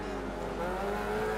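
Rally car engine droning steadily through a hairpin turn with a handbrake tap in the racing video game Dirt 3, a continuous moderately loud motor hum with no clear tire screech standing out.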